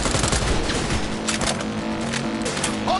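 Rapid automatic gunfire in Cyberpunk 2077 during a vehicle chase, a dense, continuous volley of loud, close shots with no clear pause.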